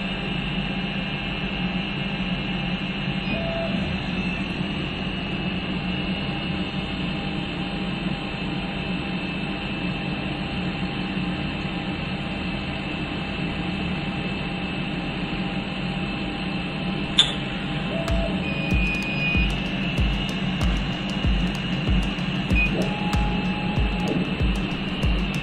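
A Chinese eBay laser cutter runs a second cut, giving a steady, even machine hum with broadband hiss throughout and a few faint ticks and clicks late in the run.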